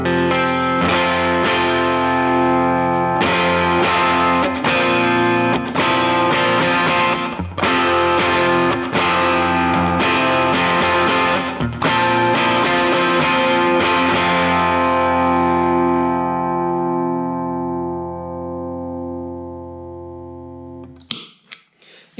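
Electric guitar with a compressed, spluttery gain tone, loud distorted chords struck in a steady rhythm and left ringing, then fading out to a brief noisy scrape at the end.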